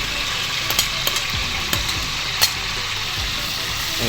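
Onions and green chillies sizzle in a pan for paneer curry, a steady hiss of frying punctuated by a few sharp clinks and scrapes of a stirring utensil, close and moderately loud.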